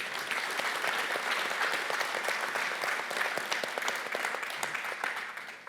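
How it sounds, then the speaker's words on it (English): Sustained applause from a conference panel discussion audience, a dense even wash of clapping that slowly tapers near the end. "Round of applause"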